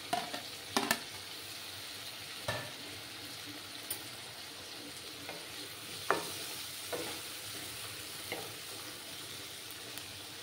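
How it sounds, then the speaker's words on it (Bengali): Potatoes frying in a spice paste for a radish-greens fish jhol, with a steady low sizzle and several sharp scrapes and clacks of a spatula as they are stirred, no voices. "এই মশলার সঙ্গে আমি এই আলুগুলো দিয়ে দিচ্ছি।"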